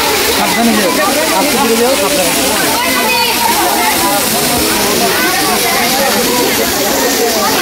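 A hillside waterfall at Himchori, Cox's Bazar, pours in a loud, unbroken rushing wash of water, constant from start to finish, with people talking beneath the roar.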